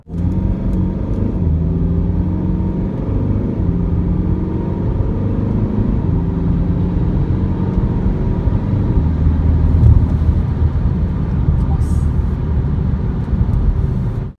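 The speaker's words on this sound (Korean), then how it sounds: "그럼 가속 한번 해볼게요." A 2014 BMW 3 Series GT car accelerates hard, its engine rumbling and rising in pitch through the gears, a steady loud drone heard from inside the cabin with no one talking.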